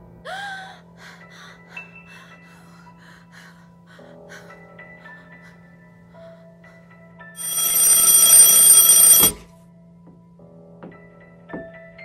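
An alarm clock goes off in a bedroom, a loud, harsh bell ring lasting about two seconds after a quiet stretch of faint sounds and a low steady hum.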